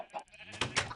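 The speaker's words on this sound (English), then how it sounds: "back to my field of sheep. Hello, sheepies!" Sheep bleat in the Minecraft video game, several short wavering bleats one after another, near and clear, with no one talking.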